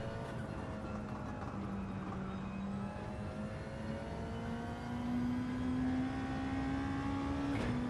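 A GT2 race car engine lapping Suzuka in a racing video game, a steady whining drone that slowly climbs in pitch as the car accelerates, fairly quiet and continuous with no talk.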